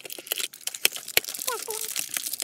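A cheetah-print sticker peeled off a LOL Surprise Big Lil Sisters blind bag doll, crinkly tearing and crackling plastic at close range with a couple of sharp snaps, a voice briefly heard alongside.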